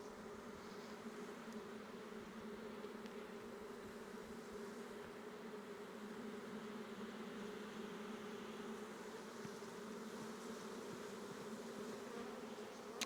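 A honeybee swarm shaken near a hive fills the air with a steady, dense buzzing hum that holds unbroken and even throughout, fairly faint and with no voices.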